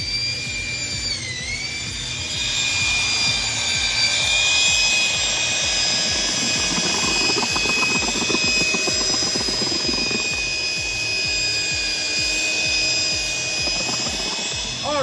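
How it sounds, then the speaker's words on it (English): A mixer churns a stucco finish coat of white sand, lime and white cement, a steady loud motorized whir with a constant high whine and rumbling slosh running throughout. "now that the mix-a-lot is done making up this finish coat"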